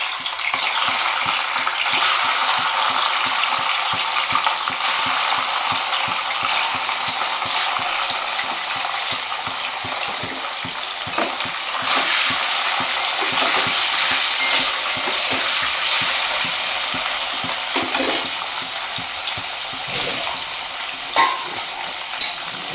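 Paneer cubes frying in hot oil in a home kitchen give a steady, loud sizzle with crackling spatters throughout, plus a few scraping clinks of a utensil against the pan near the end.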